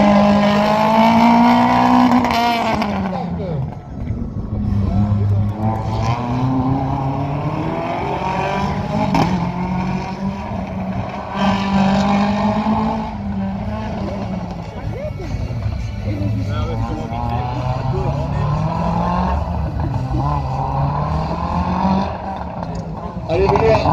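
Race car on a slalom course revs hard and shifts repeatedly, the engine note rising and falling through the run, with a commentator speaking throughout.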